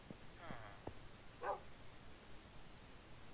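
A single short dog bark from an in-game pup in the farming video game Farming Valley, heard once in the middle, faint and brief against quiet background noise.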